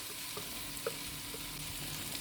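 Boiled raw banana cubes drop into a pan of frying onion and tomato, giving a soft, steady sizzle with a few small pops and stirring scrapes, quiet and close, with no talk.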